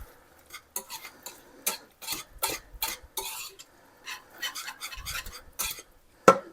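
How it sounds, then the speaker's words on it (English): A spoon scrapes and clinks repeatedly against a bowl while coconut cream pie filling is stirred, an irregular, soft, close rhythm of stirring strokes with a sharper clink at the end. "Mix it all together."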